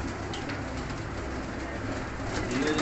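Soft repeated cooing from a flock of fancy pigeons kept in a loft in Faisalabad, steady and moderately close, over a continuous low background hum with no talking.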